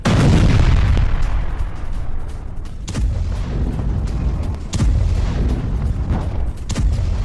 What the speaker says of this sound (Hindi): यूक्रेन पर बमबारी।